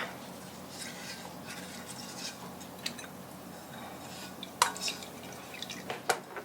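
Milk and melted butter being poured into a mixture for sweet Mallorca bread dough make faint, close liquid trickles and drips, with a few light clinks of a utensil against the bowl.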